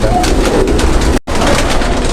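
High-flying pigeons of Pakistani breed cooing in a loft, a continuous close, full murmur with a brief break midway.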